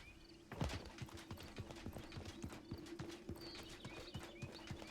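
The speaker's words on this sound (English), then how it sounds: "I heard a horse." Horse hooves pound in a steady galloping rhythm inside the fantasy battle royale game Realm Royale, close and continuous with a brief louder thump near the start and no voices.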